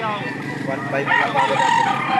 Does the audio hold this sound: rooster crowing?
yes